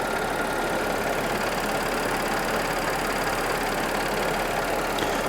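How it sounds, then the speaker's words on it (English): A 2011 Audi A6 with a supercharged 3.0T V6 idles steadily up close, a smooth dense hum with a ticking of direct injection injectors running through it. "There's the Supercharged V6 running well."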